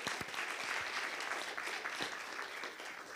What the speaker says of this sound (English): let's thank Christoph with one round of applause